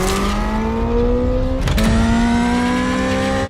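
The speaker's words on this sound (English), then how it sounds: "it's actually just a sound synthesizer like the one you get in a Hyundai Ioniq 5N. Just fake noises played through the car." A synthesized fake engine note played through the speakers of a new electric Dodge, a steady droning hum with a brief rise in pitch partway through, loud and close.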